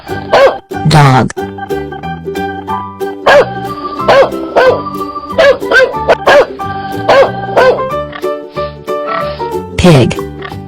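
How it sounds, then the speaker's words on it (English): A dog barks in a few short bursts over a steady, bouncy music track, with a voice briefly speaking between the sounds. "Dog."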